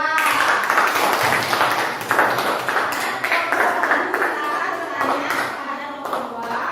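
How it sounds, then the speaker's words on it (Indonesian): Elementary classroom pupils clap for a student group during a lesson, giving a scattered, moderately loud round of hand claps with voices talking over and between them. "Tepuk tangan dulu untuk kelompok 2."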